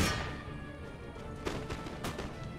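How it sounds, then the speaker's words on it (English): Musket volleys crack in an Empire Total War battle, with a burst of fire at the start and then several scattered sharp reports around the middle and later, set over a steady rumble of battlefield noise. "Everybody open fire!"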